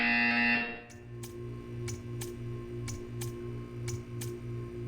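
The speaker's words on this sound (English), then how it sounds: "You will hear a buzzer." A loud electronic tone cuts off, then a series of short, evenly spaced buzzer beeps repeats over a steady low hum, in the video game Portal 2.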